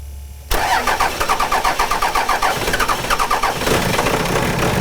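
Cummins diesel truck engine cranking and catching after a new VP44 injection pump install, then settling into a rough, choppy, pulsing idle, loud and near.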